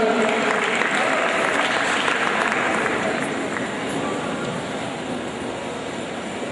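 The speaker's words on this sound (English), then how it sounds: "Let's give him a round of applause, let's encourage him." Sustained applause from a crowd at a Founders Day ceremony, a dense, steady wash of clapping that fades slightly toward the end.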